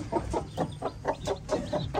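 Hen clucking at a zoo with her chicks, a close run of about eight rhythmic, evenly spaced clucks with no talk.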